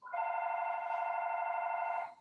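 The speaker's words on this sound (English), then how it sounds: "that phone's ringing." A telephone rings in one steady, sustained electronic trill lasting about two seconds, clear and fairly close in a quiet room.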